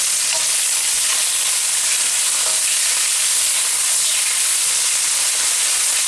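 Lamb sizzling and searing in a hot pan for Mongolian lamb, a steady, dense hiss of frying fat that holds at an even level throughout, close and loud with no talking.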